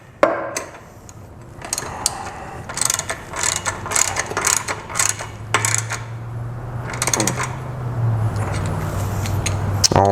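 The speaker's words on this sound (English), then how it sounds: "we'll go ahead and tighten that down" A ratchet clicks rapidly and steadily as bolts are tightened on a Kubota SVL compact track loader's debris boot, close and fairly loud, in bursts with metallic clinks and a low engine-like hum underneath.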